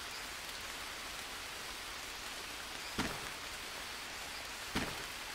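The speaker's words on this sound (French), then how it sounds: "Comme la pluie, elle fait que tomber." Steady rain pours in the jungle survival game Green Hell, an even hiss throughout, broken by two sharp clicks.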